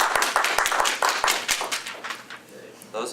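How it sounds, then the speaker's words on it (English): A few people clapping at a town council meeting, scattered sharp claps over the first second and a half that fade out, with talk continuing over and after them. "Those of you clapping are invited."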